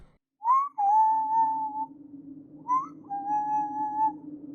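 Someone whistles a two-part tune twice, each a short rising note that slides into a long held tone, clear and close over a low steady hum, used as an eerie effect in a horror story.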